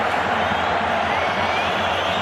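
A stadium crowd at a Real Madrid vs Osasuna football match roars in a dense, steady wash of cheering and applause that fills the whole moment without a break.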